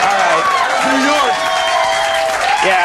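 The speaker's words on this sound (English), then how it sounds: "Yeah, that is a New York crowd." New York studio audience at a late-night talk show claps and cheers in a loud, dense, continuous roar, with voices overlapping the crowd noise.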